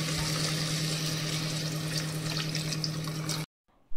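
Water pours steadily into a pressure cooker holding rice, a continuous close splashing rush with a faint hum beneath, which stops suddenly near the end.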